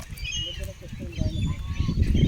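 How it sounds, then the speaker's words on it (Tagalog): Wild ducks and other birds at Tomato Lake, in an outdoor lakeside setting, give scattered honks and quacks at a middle distance, heard beneath a man's speech and some low wind rumble. "Ayan, ang daming ibon doon."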